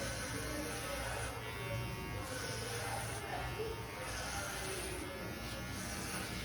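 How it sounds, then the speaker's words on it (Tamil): Electric hair clipper running over a head for a full shave, giving a steady close buzz throughout, with someone talking over it. "நம்ம ஃபுல்லாக போய் மிஷின் போட்டு எடுக்க போகிறோம்"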